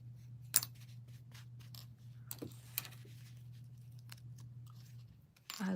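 Scissors snip through yarn during a crochet session, giving a few crisp, brief cuts spaced apart over a steady low electrical hum.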